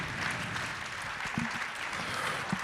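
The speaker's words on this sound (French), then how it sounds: "on va vous applaudir, effectivement." Audience applauding a prize winner at an award presentation during a talk on terracotta in contemporary architecture: steady, moderately quiet clapping throughout, with a few sharper claps standing out.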